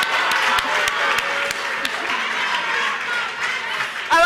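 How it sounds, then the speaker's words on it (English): A studio audience at a TV talent show applauds a contestant, sustained clapping that stays fairly loud and even across the whole stretch before a short sharp sound at the end. "A round of applause for her."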